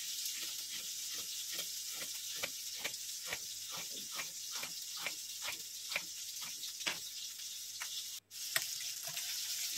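Eggplant slices frying in a pan, a steady soft sizzle under light repeated scraping or stirring taps from a utensil, heard close and fairly quiet with no talking.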